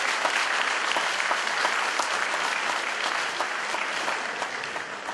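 Audience applause at a sports and martial arts gala in Białystok, a dense sustained clapping from a large crowd that stays loud and even throughout, with no talk over it.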